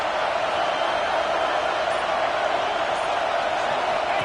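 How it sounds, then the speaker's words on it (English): Football stadium crowd at an NFL game, a dense, sustained roar of many voices holding steady throughout, with a faint cheering edge. "This crowd ready to make its presence known."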